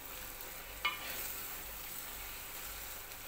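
Omena simmers in coconut cream in a pan with a steady, soft hiss and sizzle and one brief clink of a utensil early on. The sound is close and low in level, with no talking.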